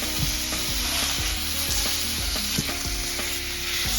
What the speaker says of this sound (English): I've added the ground beef and the sausage to the skillet